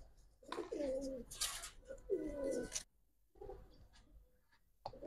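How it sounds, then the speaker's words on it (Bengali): Shapladom high-flyer pigeons coo in a few low, throaty bursts, two longer rolling calls close by, separated by short quiet gaps and faint background rustle. "শাপলাদম কবুতর এগুলো হাই ফ্লায়ার কবুতর"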